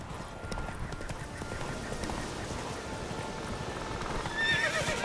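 In The Witcher 3: Wild Hunt, hooves clip-clop steadily at a trot amid rustling ambience, with a brief horse whinny near the end.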